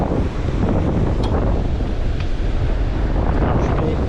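Strong wind buffets the microphone on an open beach during surfcasting, with waves washing on the shore beneath a constant, loud roar.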